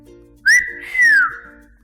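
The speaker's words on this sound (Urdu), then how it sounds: "چال باز نے زور سے سیٹی بجائی" A trickster blows two loud whistle blasts, a short high note followed by a longer sliding tone, clear and close with no talking.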